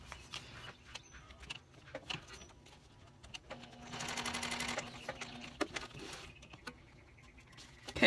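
A sewing machine stitches straight across a wallet card slot panel, heard as a quiet run of rapid mechanical patter that builds to a steadier, louder burst midway, with scattered clicks and handling noises around it and no talk.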